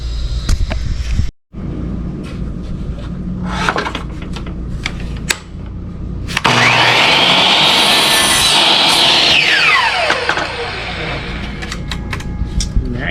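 Shiplap wood siding is cut with a saw, giving rasping strokes close by with short pauses between them. A brief, louder stretch of steady cutting follows.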